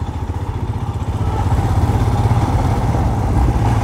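A Royal Enfield Scram 411 motorcycle engine chugs steadily up close, its rhythmic low putter growing louder as it rides off-road over rough ground.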